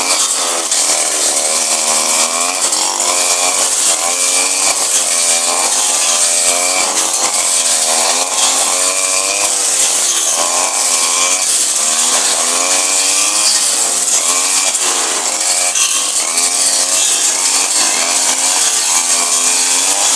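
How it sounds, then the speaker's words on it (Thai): A small two-stroke Wasabi gasoline brush cutter runs steadily and loudly, its pitch wavering up and down as the throttle shifts, with no pauses throughout. "เครื่องตัดหญ้า วาสบินะครับ"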